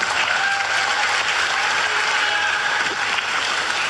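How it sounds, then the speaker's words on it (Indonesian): Loud sustained applause from a seated audience of men and women after a speech by an Indonesian minister on the economy, a dense even wash of clapping that holds steady throughout, with no voices standing out. "tepuk tangan buat Pak Menkyu"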